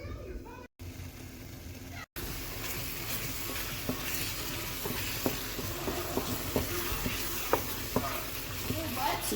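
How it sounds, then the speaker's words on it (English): Pineapple jam for nastar cookies cooks down on the stove, a loud steady bubbling sizzle with repeated sharp spatula scrapes and taps as it is stirred, two brief dropouts early on. "So just keep stirring or cooking until super dry, like no more liquid, and jam is moldable."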